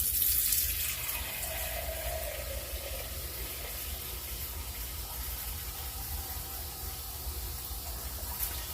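A tap runs warm water into a 4-cup measuring cup, a steady broadband splashing gush that holds at an even level throughout, with no one talking.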